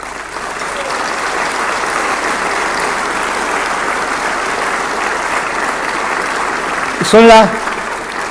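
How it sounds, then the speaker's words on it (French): A large crowd applauds steadily at an outdoor Fête de la Rose political rally in Soustons, a loud continuous roar of clapping throughout, with a short spoken phrase near the end. "Et ils vont vous le dire à leur manière en vous applaudissant."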